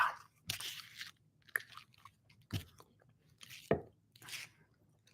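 A sheet of paper is chewed and eaten up close, a series of distinct crunchy, crinkling bites and squishy chews at irregular intervals with quiet gaps between them.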